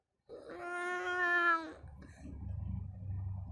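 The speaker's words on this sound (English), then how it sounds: "Cat." A cat gives a single drawn-out, rising-and-falling meow, close and clear, that then fades into low rustling background noise.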